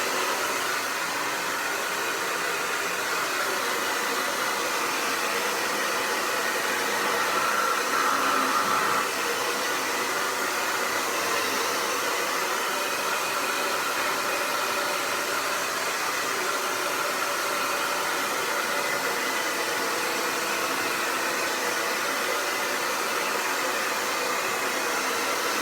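A hair dryer blowing steadily on hair, a loud continuous whooshing roar held close for a long stretch with no talk.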